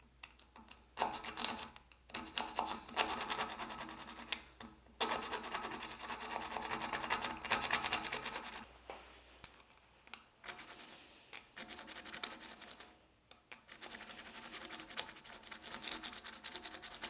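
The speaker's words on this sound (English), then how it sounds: "I'll take my file and I'll take that corner out" A hand file rasps against a copper dagger guard in repeated scraping strokes, close and fairly loud, with short pauses between bursts of filing.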